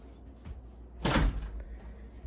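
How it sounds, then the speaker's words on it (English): A door is opened indoors with a short burst of noise, preceded and followed by faint rustling and handling sounds, close by and without talk. "I can't open that door and hold it"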